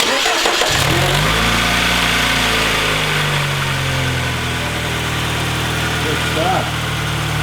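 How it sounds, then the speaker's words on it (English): A 2009 Mini Cooper engine cranks briefly and catches, then settles into a steady, close idle hum that continues to the end, with a short spoken comment over it. "and then we're gonna start it."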